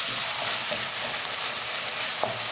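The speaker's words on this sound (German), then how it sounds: "Zerteilt das Rindfleisch schon in der Pfanne, damit es schön fein wird." Ground beef frying in a pan for chili, being broken up as it cooks, with a steady continuous sizzle and a few faint scraping stirs, no voices over it.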